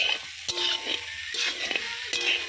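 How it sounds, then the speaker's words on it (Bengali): Ridge gourd and potatoes being stir-fried together in a pan, with a soft continuous sizzle and a few sharp spatula scrapes and knocks against the pan at intervals. "ঝিঙেটা আমি হালকা একটু নেড়ে নিয়েছি।"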